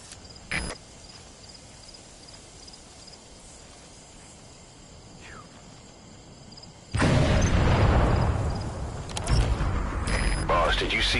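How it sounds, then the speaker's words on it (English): Explosion in Metal Gear Solid 5: The Phantom Pain as a target's vehicle crashes, a sudden loud boom that breaks into a quiet night full of chirping insects and leaves a long rumbling roar. "Boss, did you see that explosion?"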